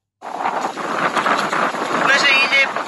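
Wind gusting across a deserted beach on Ilha Máxima, Palawan, with choppy sea, a steady rushing roar buffeting the microphone for the whole stretch, no voices.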